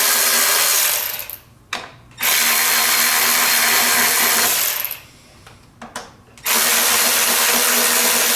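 A power tool whirs in two long bursts, removing T30 Torx screws from the engine cover of a 2006 Nissan Altima, loud and close, with short pauses between runs.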